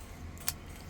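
A cut key for a 2017 Hyundai Accent is turned in the door lock, giving a single brief metallic click amid quiet background hiss.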